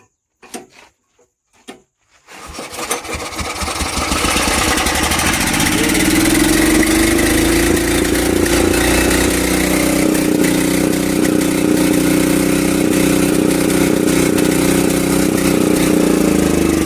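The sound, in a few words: Swaraj Code mini tractor engine running after repair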